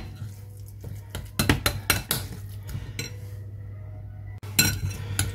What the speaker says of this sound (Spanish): Y removemos bien, que salga una buena pasta